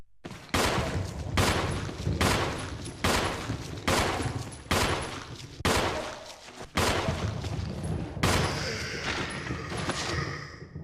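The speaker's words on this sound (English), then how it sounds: "that took 9 handgun shots to take down a standard zombie" Handgun shots hitting a zombie in the video game Resident Evil REmake: about nine loud, sharp reports spaced roughly a second apart, each followed by a short decaying tail, with no talk.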